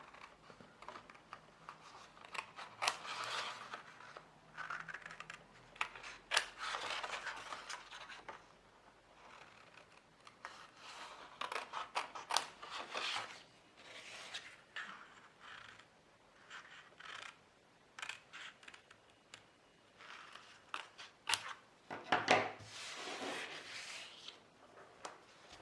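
Scissors snip paper in short bursts while a handmade Valentine mini album is assembled, with quiet cuts and rustling handling of paper between pauses, near and soft.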